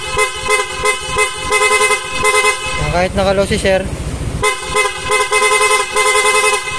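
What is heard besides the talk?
Motoflute Sniper 155 rapid horn honking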